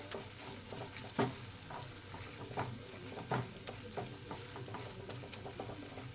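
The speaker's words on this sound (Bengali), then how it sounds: "ছোলা মশলা, দিয়ে আবারও ভালো করে নাড়িয়ে নেব" Chickpeas coated in chhola masala being stirred in a frying pan, with a soft continuous sizzle broken by repeated scraping knocks of the spoon against the pan, close by and with no talking.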